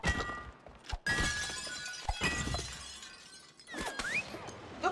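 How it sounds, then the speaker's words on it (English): Glass shattering in the co-op video game It Takes Two: several loud, bright smashes and crashing breaks in quick succession, with crunchy debris tails between bursts and no talk. "Break the glass."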